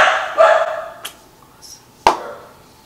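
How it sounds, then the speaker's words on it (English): A dog barks in the background of a home, a couple of sharp yips or barks spaced apart, with a brief faint one between, loud and close over quieter talk fading out. "I'm sorry, that's my dog."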